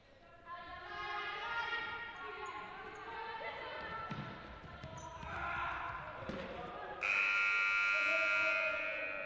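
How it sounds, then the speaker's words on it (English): A loud, sustained buzzer signals a timeout during a women's match, sounding over an echoing arena with bouncing balls, crowd noise and commentary. "Buzzer sounds to signal the timeout"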